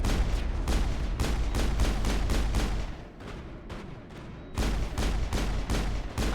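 Gunfire in the video game Mass Effect, rapid bursts of loud, closely spaced shots that pause briefly midway before resuming at full intensity.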